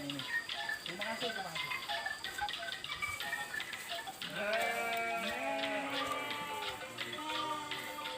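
Sheep bleat repeatedly in a rural hillside village, several wavering calls near and at middle distance, with other animals and faint background activity around them.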